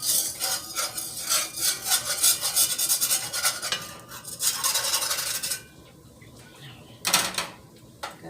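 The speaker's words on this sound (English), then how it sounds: "With this, it's going to come to a boil, so you want to constantly stir it." A whisk stirs a pot coming to the boil with quick, rhythmic rasping scrapes against the metal, close and steady for several seconds. The strokes then fall away to a quieter background, broken by one brief burst of scraping.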